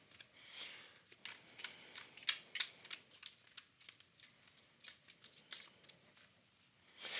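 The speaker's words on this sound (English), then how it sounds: "Let's just pull a card or two." Tarot cards shuffled and pulled from the deck in a series of quiet, quick riffling and flicking bursts with soft card snaps, close and unaccompanied by speech.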